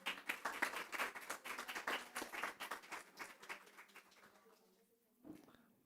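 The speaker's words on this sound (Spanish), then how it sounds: "Le brindamos un fuerte y cariñoso aplauso." An audience claps for a speaker after a short conference talk, brisk crowded clapping that gradually thins and fades out, leaving a near-silent tail with a brief stray sound at the end.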